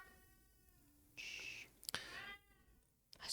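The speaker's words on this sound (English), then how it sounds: "because the cat's distracting me" A domestic cat meows once or twice indoors, a short nasal cry standing out clearly against a quiet room with a faint click and rustle nearby.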